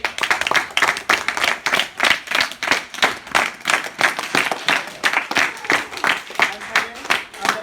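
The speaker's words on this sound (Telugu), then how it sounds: "ప్రతి ఒక్కరు కూడా వాళ్ళందరూ క్లాప్స్ కొట్టండి" Students clap together at a Republic Day awareness class in a Pedaboddepalli academy, a steady run of sharp, rapid claps filling the room for several seconds, close and fairly loud, with scattered voices mixed in.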